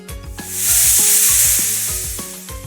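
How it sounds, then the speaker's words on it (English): A continuous dry buzzing hiss swells and fades, like a rattlesnake shaking its tail, with no other sound around it. "It's the rattlesnake. Rattlesnakes have something very cool at the end of their tail, a rattle. It makes a noise like this."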